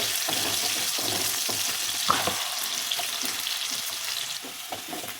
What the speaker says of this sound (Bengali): আলুটাকে এবার লাল লাল করে ভেজে নেব